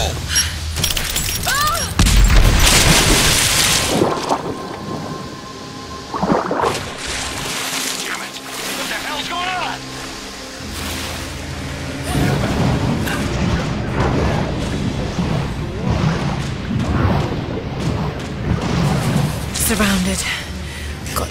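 Explosions and gunfire in the video game Rise of the Tomb Raider, with a heavy boom early on followed by scattered blasts, splashing debris and rumbling, mixed under frequent character voices and radio chatter.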